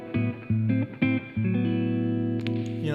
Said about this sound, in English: Turn off some of that reverb.